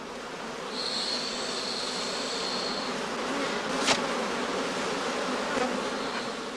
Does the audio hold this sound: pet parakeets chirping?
no